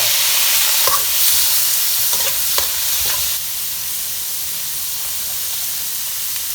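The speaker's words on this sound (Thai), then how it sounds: "วันนี้มาผัดนะครับ ใส่กระเทียมครับ แล้วก็ใส่พริกขี้หนูแดงจินดาเข้ามาแก้เลี่ยนเครื่องในที่เราลวกไว้" Blanched chicken offal stir-fries with garlic and red bird's eye chilies for a ginger stir-fry: a loud, dense sizzle with steamy hiss and a few scraping stirs, easing to a softer steady fry after about three seconds.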